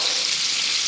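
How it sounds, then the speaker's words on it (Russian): Potatoes fry in a pan with a steady, close hiss of oil that carries on without a break. No one speaks over it. "Потому что у меня здесь картошка жарится."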